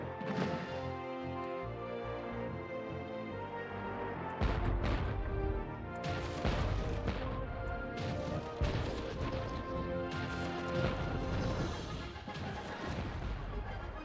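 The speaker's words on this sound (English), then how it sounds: "Another cannon tower shooting me too." Cannon towers fire repeated shots in a video game, heavy booming impacts and crashes landing every second or two over a dense, loud layer of game music and effects.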